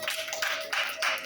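A church congregation clapping for Jesus in rhythmic waves, four dense bursts of many hands in steady tempo, filling the room with no voices over it.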